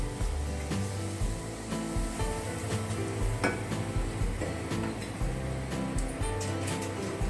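Mutton rakti being stir-fried in a pan, a dense, continuous sizzle with scraping and stirring clatter layered over a low steady hum, loud and close throughout without speech.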